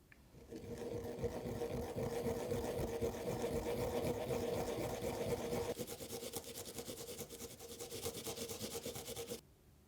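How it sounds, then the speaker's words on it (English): Garlic rubbed against a grater makes a quick, even rasping scrape up close for several seconds, with the stroke changing briefly near the end. "Grate the garlic."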